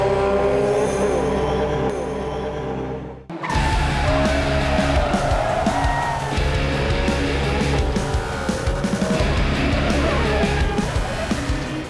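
Race cars at a JK Tyre Racing Championship round at the Buddh International Circuit in Noida roar loudly; after a brief cut, engines drone steadily with tyres squealing through corners.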